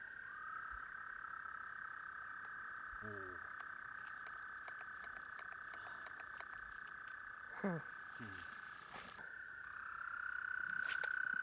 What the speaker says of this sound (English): We will go over and observe those frogs now.